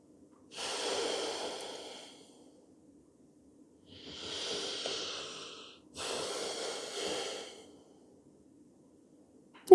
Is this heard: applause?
no